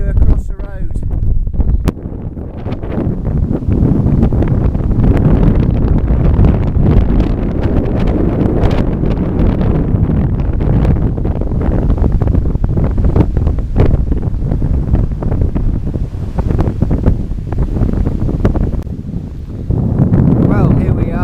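Strong, buffeting wind roars across the microphone in gusts for a long stretch, loud and rumbling with brief dips.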